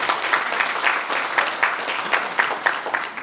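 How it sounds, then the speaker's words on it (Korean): At an industrial complex investment briefing, an audience gives a chairman a round of applause, a steady dense patter of many hands clapping with slight rhythmic pulses, fairly close. "다시 한번 박수 한번 우리 회장님께 부탁드리겠습니다."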